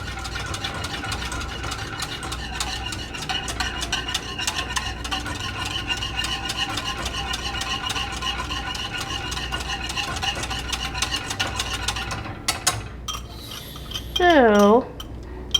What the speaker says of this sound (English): every so often you can stop stirring just to make sure that nice froth on the top